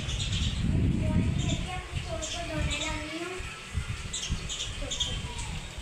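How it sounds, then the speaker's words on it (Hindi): Small birds chirping and tweeting outdoors in cool wind, scattered bright calls near and far over a low wind rumble, with someone talking throughout. "सब चिड़ियाँ देखिए यहाँ पे छुप छुप के बैठी हुई हैं।"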